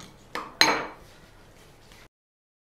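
A spoon stirs mashed ingredients and lemon juice in a bowl, giving two sharp clinks against the rim followed by softer scraping, quiet and close.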